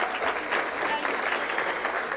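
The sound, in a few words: audience applause at awards ceremony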